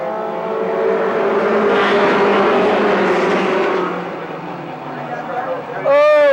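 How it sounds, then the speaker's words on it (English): Mini Stock race cars roar back up to speed at a feature restart, a loud rising engine blare that swells and then fades. An announcer talks over it, and a sharp revving whine cuts in at the end. "We still have 11 cars getting going"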